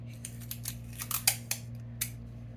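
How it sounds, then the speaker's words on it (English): Short, crisp rips and crackles of tape being pulled off a roll to tape down paper at a craft table, in quick separate bursts over a steady low hum. "So I'm going to just take a little bit of tape"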